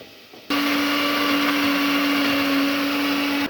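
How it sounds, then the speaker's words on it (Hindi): Ginger and garlic being ground in an electric kitchen grinder: a loud, steady motor whine with a strong constant hum starts abruptly after a brief quiet moment and runs without pause to the end. "ये अदरक लहसुन है, ये ग्राइंड कर रही हूँ।"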